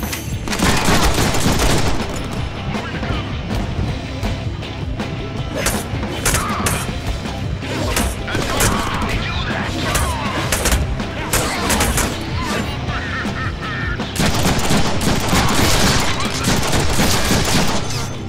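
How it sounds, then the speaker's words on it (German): Gunfire in the video game Deadpool, dense bursts of rapid shots and impacts that fill the whole stretch, loud and close, with brief voices mixed in. "Immer schön auf den Kopf schießen."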